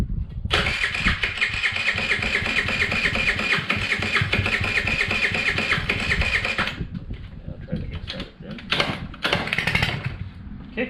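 A 50cc GY6 scooter engine with a rough idle catches and runs loudly and steadily for several seconds, then cuts out, leaving a few brief bursts of revving and clatter.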